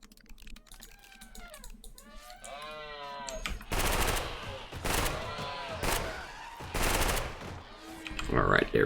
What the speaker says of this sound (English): I want to try out that gun.